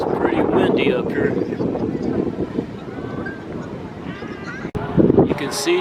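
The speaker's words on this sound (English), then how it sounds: "It's pretty windy up here." Wind gusts roaring across the glass-floored top of AnaVista Tower in Gatlinburg, a steady broadband rush that swells and fades, with a person talking over it.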